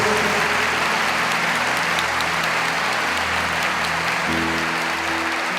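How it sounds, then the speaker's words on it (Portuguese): A church congregation claps steadily over sustained music during Mass, the applause continuing evenly throughout. "Vamos aplaudir o Senhor por isso."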